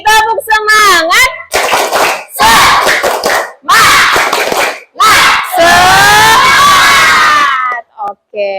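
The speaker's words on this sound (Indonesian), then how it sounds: "Sekali lagi, tepuk semangat" Classroom children chant a rhythmic spirit clap together, loud group voices punctuated by bursts of clapping, several rounds with short pauses between.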